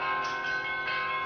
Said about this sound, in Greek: την ώρα που οι καμπάνες του ελληνοορθόδοξου μοναστηριού ηχούν